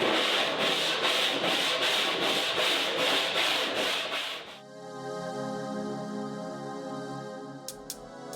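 Rhythmic strokes of hand sanding on dried filler on a custom engine hatch rasp back and forth about a dozen times, then give way to a steady tonal hum with a couple of faint clicks.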